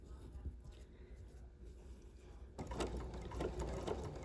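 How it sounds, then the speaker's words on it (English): A Bernina sewing machine with dual feed engaged stitches quilt pieces, starting with a few quiet stitches and then running into a steady, close mechanical whir, with a person speaking softly early on. "I always like to do just a couple stitches to hold things in place"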